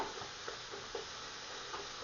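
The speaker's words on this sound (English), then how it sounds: "You're basically frying them," Steady sizzling of vegetables frying in a pot for spaghetti sauce, with faint stirring scrapes now and then, no voices.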